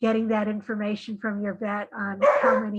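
Dogs bark in the background while a person keeps talking, with several short barks heard beneath the steady speech.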